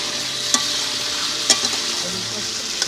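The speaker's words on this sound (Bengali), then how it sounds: "প্রথমে মাছ ভাজা হচ্ছে" Fish fry in a pan at home with a steady bright sizzle, broken by a few sharp clicks of a utensil stirring or scraping; close by, with no talking.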